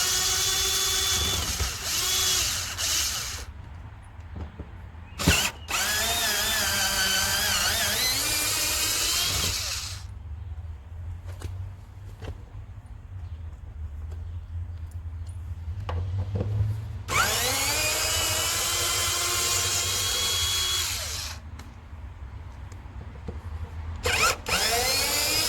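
Power drill backing screws out of rotted wood on a camper under repair, in several long whining bursts with pauses between, the motor pitch rising and falling as each screw turns loose; close and fairly loud, with no talking.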